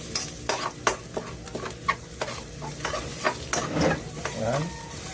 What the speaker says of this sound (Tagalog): Nikos-nikos natin yung ating luya.